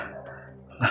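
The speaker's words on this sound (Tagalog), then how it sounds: "Mga malaking aso yan eh." A large dog whines briefly and then gives a single short bark near the end.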